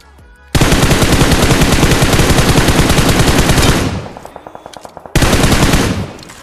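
Rapid automatic gunfire in the battle royale game BGMI, a loud sustained burst for about three seconds, then a few spaced single shots and a second loud burst, close and dominant with no talk.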